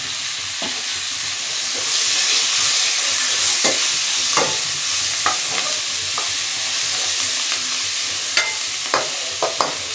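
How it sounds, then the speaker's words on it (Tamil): Bottle gourd, coconut and other chutney ingredients sauté in a pan with a continuous loud sizzle, broken by repeated scraping and clicking of a spatula stirring them, close up with no voices. "இப்போ இதெல்லாம் நல்லா வதக்கி எடுத்துக்கலாம்"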